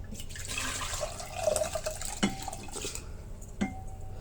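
Excess water tipped out of a non-stick rice cooker pot, a continuous splashing pour mixed with a few light metallic knocks of the pot, close and steady with no talking.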